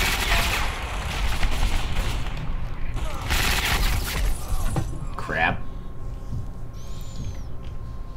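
Gunfight in the Ghost Recon Phantoms shooter game: bursts of rapid automatic gunfire and scattered shots ring out loud and near, with a brief sharp shattering sound and a voice speaking through part of it.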